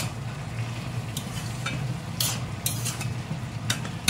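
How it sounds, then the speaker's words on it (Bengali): Bottle gourd cooking with coconut milk sizzles gently in a pan while being stirred, a steady low frying hiss broken by several short spoon scrapes and clicks. "ভালো করে এটাকে মিশিয়ে নেব লাউয়ের সাথে।"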